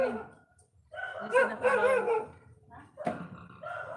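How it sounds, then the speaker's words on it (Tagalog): Dogs bark at a person they have spotted, a burst of loud close yaps and barks with a short whimpering edge, and a voice speaks briefly over them. "nagtumatahol na yung mga aso kasi may nakitang tao"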